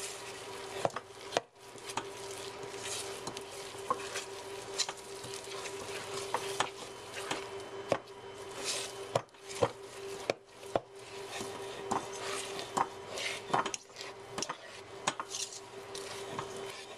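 Baking mix, milk and shredded cheddar whisked together into biscuit dough in a bowl, with steady quick scraping and tapping strokes, close and continuous.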